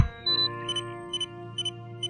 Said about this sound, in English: There's a beeping noise coming from the TARDIS.